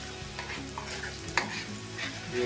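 A ground paste of garlic, green chillies, onion, coriander and mint frying in oil in a home kitchen, a continuous moderate sizzle with stirring scrapes and one brief sharp clink partway through.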